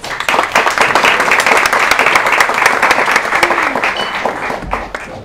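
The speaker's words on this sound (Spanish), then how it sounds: "un aplauso para ti" Audience at a talk on meditative and sacred couples' sexuality gives a loud, sustained round of applause, many hands clapping densely and close for several seconds before it thins out.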